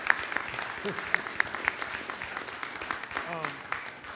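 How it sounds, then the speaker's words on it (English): An audience applauds indoors at a public creative-writing reading, a thin scattered clapping at moderate distance with a voice briefly audible over it. "give them a round of applause too"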